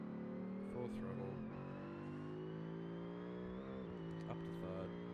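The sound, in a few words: Civetta Scintilla GT3 mod car at full throttle, video game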